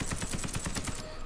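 Full-auto gunfire in Warface, a rapid, steady burst of evenly spaced shots lasting about a second, loud and close without any talk.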